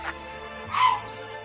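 A dog gives a short whimpering yip with a faint bark, heard once briefly at moderate distance against a quiet background hum.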